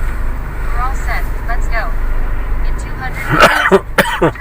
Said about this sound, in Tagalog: Pinipigilan ko yung ubo ko eh